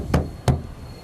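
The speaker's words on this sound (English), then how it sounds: "Now we'll close the door." Large aft compartment door of a T-1 aircraft being closed and latched, two sharp knocking thuds close by in quick succession, otherwise quiet.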